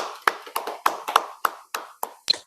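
Several people give a welcoming round of applause at a teachers' gathering, a short sparse burst of about nine distinct claps spread over two seconds, close and fairly crisp with no talk.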